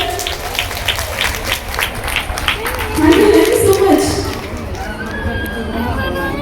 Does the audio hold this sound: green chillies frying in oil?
no